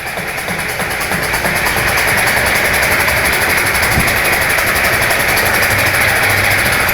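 ATEX explosion-proof industrial drum mixer, model DMP01-HD-Ex-SP, running steadily with a loud, even mechanical drone and motor hum, continuous throughout with no speech.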